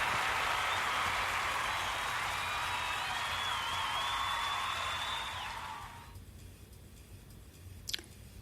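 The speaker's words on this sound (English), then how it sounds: "This applause is for you." A crowd claps and cheers for several seconds, a steady wash of applause that fades out, leaving quiet room noise and a brief click.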